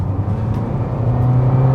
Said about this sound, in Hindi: जब आप इसे एक्सलरेट करें एज लो एज 1500 RPM से, तो भी ये गाड़ी बहुत क्लीनली पुल करती है